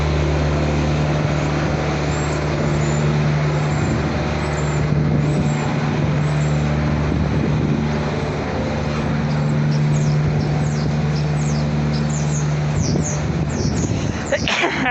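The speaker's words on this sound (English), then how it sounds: "but there's a food service truck." A food service delivery truck rumbles close by on a windy Port Townsend street, a loud, steady engine drone with a hiss of air brakes near the end, heard alone without talk.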